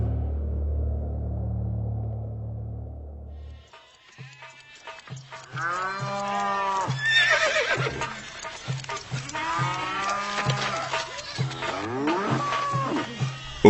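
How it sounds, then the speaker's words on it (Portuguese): Livestock calls: cattle low and horses whinny repeatedly, fairly close and loud, with steady hoof clip-clops underneath after a low rumbling opening. "Os egípcios levaram a José cavalos, ovelhas, cabras, bois e jumentos"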